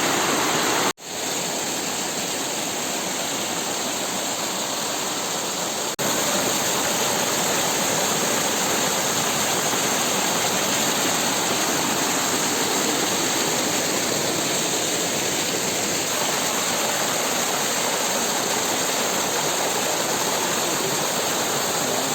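A waterfall in Mattathur roars in a loud, unbroken rush of white water, close and constant throughout, with no voices.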